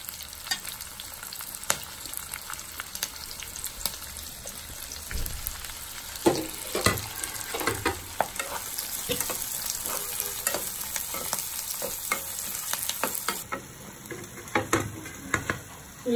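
Onions fry in a pan for restaurant-style dum chicken, a continuous sizzle under repeated close scraping and stirring strokes that run for the whole stretch, with no one talking.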